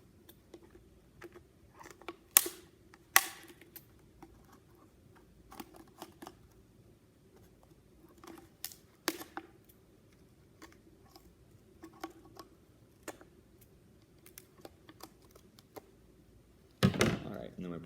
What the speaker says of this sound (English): We've got our square. We're going to cut all 4 sides again.